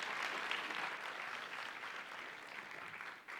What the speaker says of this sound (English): Please give MaGIC a big round of applause.